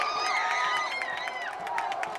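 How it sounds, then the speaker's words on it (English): A stadium crowd roars and whistles during a Division III playoff game between Chapman and Whitworth in NCAA Football 2025. The crowd noise runs steadily throughout with high whoops rising over it. "Crowd on their feet trying to help the Pirate defense."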